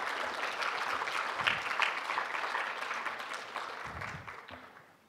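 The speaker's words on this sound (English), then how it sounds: "Please give your final applause for Patrick Fritz and the rest of the panelists." A congress audience applauds the panelists in a full, sustained burst of clapping that holds steady, then thins and fades toward the end.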